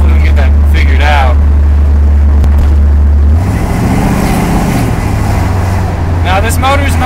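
Engine of a 1979 Chevrolet Camaro drones loudly while driving, a steady low rumble that shifts pitch midway, with a person talking over it.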